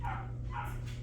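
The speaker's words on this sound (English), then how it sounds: "Sorry about the noise in the background if you can hear my neighbor's dog barking." A small chihuahua barks twice in quick succession in the background, sharp and fairly faint over a steady low hum of room noise.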